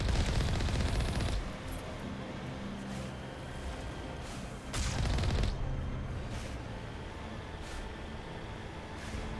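Bursts of video game gunfire and rocket explosions in Mass Effect Legendary Edition, loud and dense at the start, easing to steady rumbling combat, then a second heavy blast midway before trailing into continued background fire.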